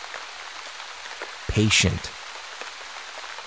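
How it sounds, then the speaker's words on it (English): Rain falling in Mauritius: a steady hiss of raindrops on surfaces, with a brief spoken word rising over it midway. "Rain."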